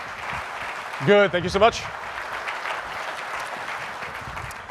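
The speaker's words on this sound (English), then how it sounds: "Give her a big round of applause as she joins me on stage" A studio or event audience applauds as a woman joins the host on stage. The clapping is a steady wash running the whole way through, with a brief spoken exchange rising over it near the start.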